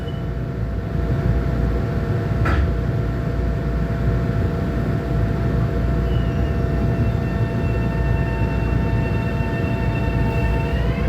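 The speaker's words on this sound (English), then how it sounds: "This is the train to Grand Central." Commuter train rolling toward Grand Central in New York, a steady, loud, continuous rumble with sustained tonal whine throughout and one brief sharp screech partway through; no voices.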